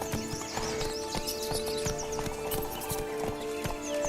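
Roach the horse in The Witcher 3 trotting with a quick, even clip-clop of hooves, a neigh breaking in over the steady footfalls alongside a low continuous game background.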